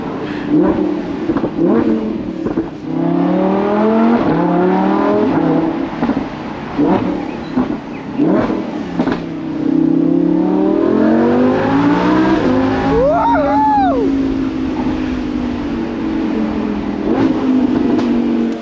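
Lamborghini Huracan Spider engine revving hard and accelerating through several gears, a loud, close, rising and falling wail with sharp shift breaks and a final high sweep, with almost no talking.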